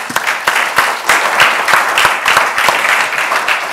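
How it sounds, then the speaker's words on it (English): A room full of audience members claps steadily, dense and continuous applause with a few sharper individual claps standing out, fairly loud and close throughout with no talk over it. "That deserves a huge clap."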